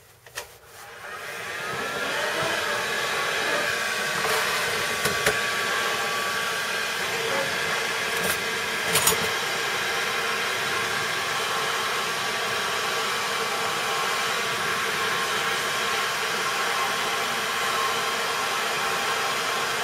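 A 2000-watt heat gun blasts hot air onto the end of a piece of PVC plastic, making a loud, steady, close whooshing roar that runs unbroken throughout, with a few faint clicks near the start.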